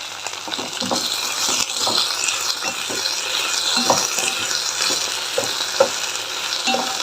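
Okra fries in a pan with a lemon-sized piece of tamarind for a Rayalaseema-style chutney, making a continuous close sizzle broken by scraping stirs at irregular intervals.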